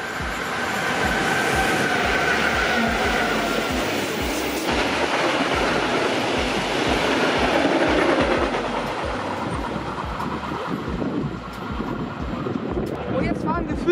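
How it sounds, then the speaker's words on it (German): A freight train rolls past on the left Rhine railway line, a loud, continuous roar with rumbling wheels and faint squeals that holds steady for the whole stretch. "Ziemlich überraschend kommt da jetzt der nächste Güterzug."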